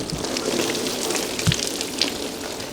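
Water draining out of the cylinder head of a Japanese V8 engine into a catch container, a steady spattering trickle with occasional louder drips and splashes close by.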